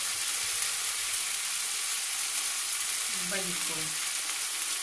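Maida roasting with crushed cloves in a hot pan for a corn and mushroom mixed veg dish gives a steady, close frying sizzle, with a few soft stirring scrapes near the end and one brief spoken word.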